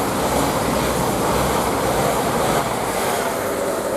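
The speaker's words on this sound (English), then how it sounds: "We get more of this train when it departs." A train pulling away from Luton Airport Parkway railway station, a dense steady roar of engine and rolling wheels, loud and close with no break.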